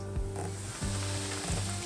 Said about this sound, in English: we just have to wait for this grease to heat up, and then we'll be frying in no time